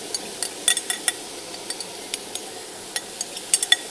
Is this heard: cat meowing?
no